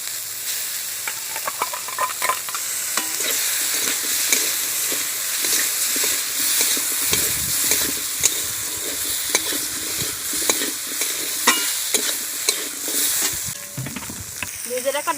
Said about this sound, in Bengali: এবার বেটে রাখা কালো সরষে দিয়ে দিচ্ছি কালো সরষে